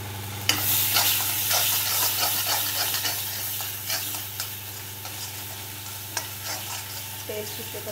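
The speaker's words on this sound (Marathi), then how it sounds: "तेल सुटेपर्यंत आपल्याला परतून घ्यायचं, कारण आज वाटण सगळं कच्चं आहे आपलं" Raw ground spice paste sautéing in oil in a kadhai, a steady close sizzle and fry with repeated scraping stirs of a spoon against the pan.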